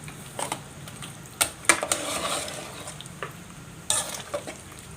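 Beef and eggplant herb stew stirred in a pot: scattered scrapes and clinks of a utensil with a faint sizzle underneath, close and fairly quiet, no voices.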